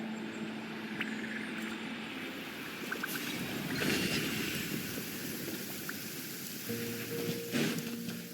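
Steady rain falling in the open world of Genshin Impact, a continuous soft hiss of drops with a few faint splashes and brief chimes over it, no talking.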